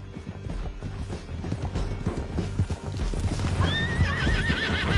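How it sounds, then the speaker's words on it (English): Several horses gallop hard in a video game, rapid clip-clop hoofbeats drumming steadily with a loud neigh and whinny rising near the end, amid rumbling action. "Get him on your horse. Down the canyon. Let's ride!"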